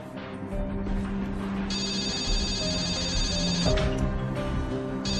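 A telephone bell rings in a hospital room, its bright electronic trill rising clearly over faint background music, with no one speaking.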